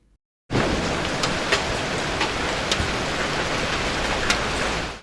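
A heavy downpour of rain mixed with hail in Elazığ, Turkey, bursts in suddenly and roars on as a loud, dense, steady hiss, with scattered sharper impacts of hailstones striking hard surfaces nearby.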